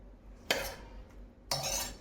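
Prasadam food being served into steel bowls, two sharp metallic clinks of a spoon against steel, close and crisp in a quiet room.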